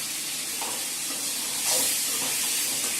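Chopped tomatoes dropped into a hot kadai hiss and sizzle steadily, a broad continuous frying sound that swells briefly partway through, with no talking.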